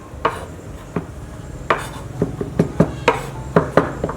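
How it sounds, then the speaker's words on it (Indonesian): Garlic being crushed for beef stroganoff in a home kitchen: a series of sharp, separate thuds and knocks, about a dozen in irregular rhythm, close and moderately loud against a faint background hum. "Crush your garlic."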